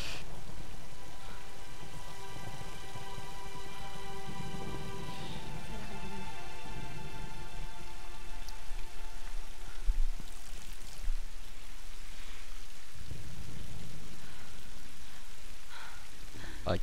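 Steady rain falls at night in a video game, a continuous wash of drops pattering on surfaces, with faint tonal game music and occasional low thuds underneath.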